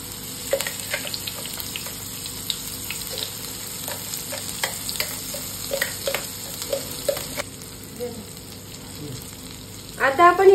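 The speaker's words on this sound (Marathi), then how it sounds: "जिरं आणि मोहरी छान तळतळली की भाजीला छान चव येते" Cumin and mustard seeds fry with spice masala in a pan for Khandeshi dal kanda, giving a steady sizzle with scattered pops and crackles that grows louder at the end.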